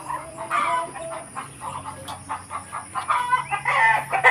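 A Rhode Island rooster crows among other chickens clucking nearby, with repeated calls over a low, steady background hum.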